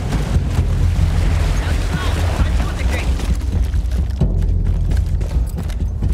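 Cannon shell explosions in the Battlefield 1 video game, with heavy continuous low booms and rumbling blasts filling the whole stretch, a sharper impact near the end, and game noise dense throughout.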